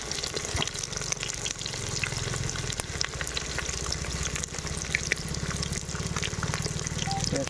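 Onions and cashews fry with spices in oil for mutton dum biryani, producing a dense, continuous crackling sizzle close by, with scattered pops and spatters throughout.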